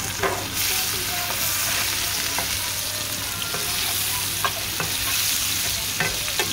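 Onions and chilies frying in hot oil for a fish curry, a steady loud sizzle throughout with occasional stirring clicks from a utensil in the pan.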